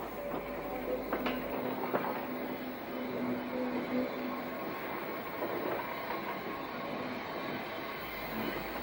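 A WD steam locomotive train rumbles past steadily with a low, continuous roar, a brief high squeal and a few clanks standing out near the start.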